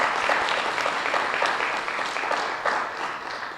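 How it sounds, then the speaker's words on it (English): An audience at a student government executive board debate claps in a brief, steady round of applause, fairly dense and moderately distant, with no talk over it. "Let's give them a round of applause."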